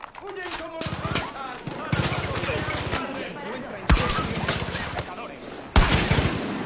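Video game gunfire in short bursts of rapid automatic shots, loud and close, recurring several times with brief pauses, while a player talks excitedly over the shooting.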